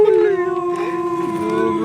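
A dog howls in one long, steady, loud wavering tone close by, alone without talk.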